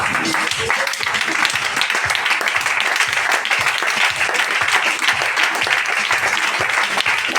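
Church congregation applauding together during worship, a dense, steady wash of many hands clapping at close range throughout, with some voices mixed into the crowd.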